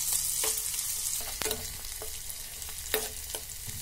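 Soft, steady sizzling of onions frying in a pan, with occasional clinks and scrapes of a utensil stirring, no voices.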